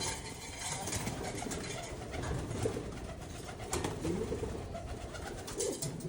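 Roller pigeons coo softly in a loft amid a busy, noisy background, low murmuring calls repeating under faint ambient sound.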